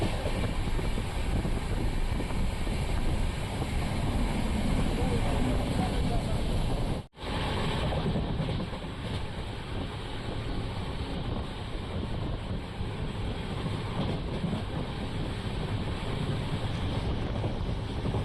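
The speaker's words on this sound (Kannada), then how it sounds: "ನೂರಲ್ಲಿ ಹೋಗ್ತಿದೆ ನಮ್ಮ ಟ್ರೈನು. ಮಿನಿಮಮ್ 100 ಸ್ಪೀಡಲ್ಲಿ ಹೋಗ್ತಿದೆ." The Karnataka Express passenger train running at about 100 km/h, a loud continuous roar of rushing wind and rolling rumble inside the moving train, briefly cutting out once midway, with a voice talking over it.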